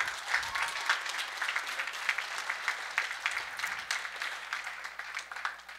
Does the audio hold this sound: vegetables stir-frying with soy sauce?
no